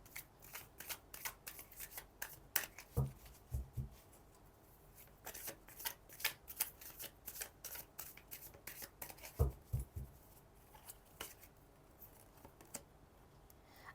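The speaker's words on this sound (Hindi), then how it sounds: "जब तक मैं कार्ड शफल कर रही हूँ" Tarot cards being shuffled by hand, with soft irregular riffles, slaps and flutters continuing throughout, close and fairly quiet.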